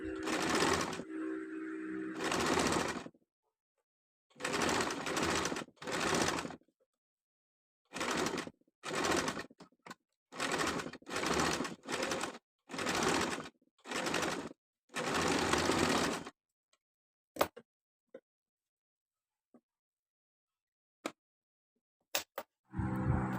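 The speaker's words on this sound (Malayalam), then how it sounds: "ഇതുപോലെ നമ്മൾ സ്റ്റിച്ച് ചെയ്തെടുക്കാം" A sewing machine joins a frock sleeve to the bodice in a series of short, regular stitching bursts with brief gaps between them, ending in quiet with a few scattered clicks.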